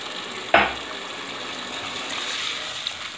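A quick splash of water hits a hot pan of frying chicken curry, followed by steady sizzling and frying that continues close by without any talk.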